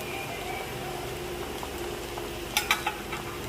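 An egg frying in a pan for a sandwich gives a steady, soft sizzle throughout, with a few brief utensil clicks and scrapes near the end.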